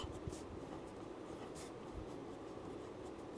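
A pen writing a math equation by hand on paper, faint and close, with soft scratchy strokes over a quiet background hiss.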